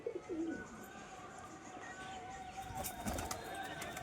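Malobahie pigeons being released give close, soft cooing calls, with a brief flutter and rustle near the end.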